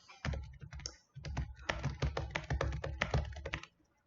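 Fast, random typing on a computer keyboard, a dense clatter of close key taps in two bursts with a brief pause between them, heard alone.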